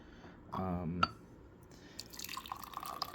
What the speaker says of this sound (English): Get that poured out.